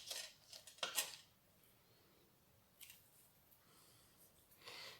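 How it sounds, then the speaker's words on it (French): Scissors snip through craft string while decorating a gift bag: a few quiet, crisp cuts, grouped near the start, then a lone snip and another near the end, set against near silence. "Là, je coupe ma ficelle."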